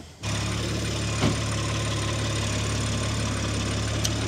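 A BMW X3 M idles steadily just after an oil change, its engine holding an even low hum with a brief soft knock early on and no talk over it.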